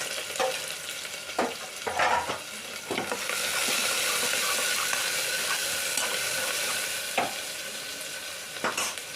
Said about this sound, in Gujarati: હવે નાખી દઈશું ડુંગળી। ડુંગળી ગુલાબી રંગની થાય ને ત્યાં સુધી સાંતળવા દેવાનું।